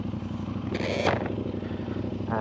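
A Xiaomi 800 NK motorcycle engine idles with a steady low rumble, briefly blipping the throttle partway through.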